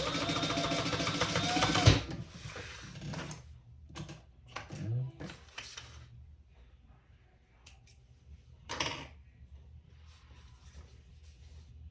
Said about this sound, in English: stitch across the top to just close that off